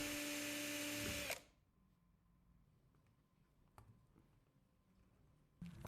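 A power drill drills out a broken screw in a guitar, whirring loudly at close range for about a second, then cutting out to near silence before a brief burst of drilling returns at the end.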